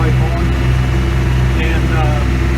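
A Massey Ferguson 1105 tractor idles with a straight pipe in place of the muffler, giving a loud, steady, low rumble close by with no pauses, while someone talks over it.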